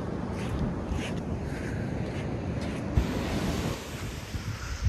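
Sea waves wash onto a shore in a steady roar, with wind buffeting the microphone and a brief surge partway through.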